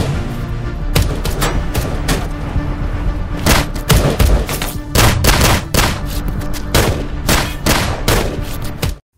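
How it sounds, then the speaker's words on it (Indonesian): A gunfight from an action film erupts in dense volleys of gunfire, rapid overlapping shots and bursts hammering loudly almost without pause, with booming impacts mixed in. "Dalam aksi baku tembak itulah"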